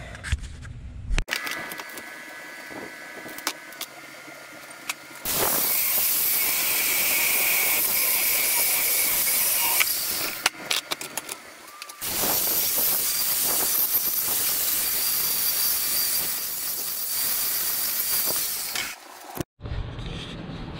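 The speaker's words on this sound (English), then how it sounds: "I'm gonna go ahead and weld that up right now for the L bracket for the CB radio" Welding an L bracket for a CB radio mount, held in a vise: long loud steady hissing, crackling arc bursts of several seconds each, separated by short pauses, no talking.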